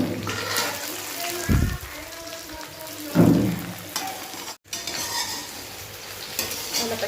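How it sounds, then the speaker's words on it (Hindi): Jackfruit fries in a pan in a home kitchen, a soft sizzle running beneath scrapes and stirring clatters of a utensil, with someone speaking over the cooking now and then. "कटहल अच्छे से फ्राई करत हूँ"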